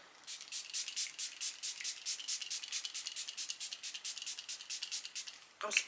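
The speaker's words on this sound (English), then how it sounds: "I'm spraying." Cosmetic spray, likely setting spray during a makeup routine, hisses in a long run of short, evenly spaced bursts, close and fairly loud, ending with a brief louder rustle.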